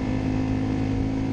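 An Italika Vortx 300 motorcycle engine drones at a track day, a loud, steady, close mechanical tone holding constant pitch throughout with no break.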